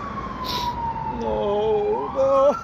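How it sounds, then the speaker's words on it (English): Emergency sirens wail and rise in pitch as they approach, steady and moderately loud over a low background rumble, with no talking. "you can hear sirens approaching"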